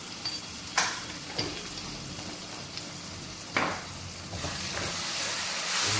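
Ground cumin and garam masala sizzle and fry in a pan, a steady close hiss broken by a few sharp clicks and scrapes of stirring, growing slightly louder toward the end.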